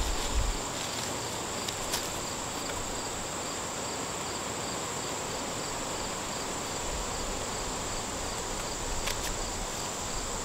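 A dense, continuous drone of irritated honeybees fills an open hive during an inspection, steady and close throughout, with a few faint knocks of handling.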